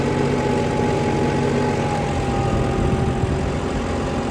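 A tractor engine running in a wet field with its plough attachment adjusted, a steady low droning rumble, loud and continuous with no speech.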